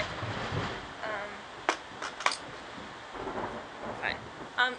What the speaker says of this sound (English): There's a huge thunderstorm outside. Like, it is pouring.